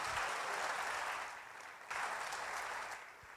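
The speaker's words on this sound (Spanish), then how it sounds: "¿Puede aplaudir al Señor?" A church congregation at a Monday prayer service claps for the Lord, the applause faint and steady, dipping briefly before swelling again.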